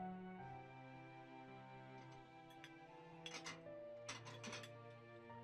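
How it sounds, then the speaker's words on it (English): Cooking in the video game Fate/Grand Order: Paper Moon: bright clinks and clatters, like dishes and utensils, come in two short bursts midway, layered over a steady background music track with no talking. "Cooking noises?"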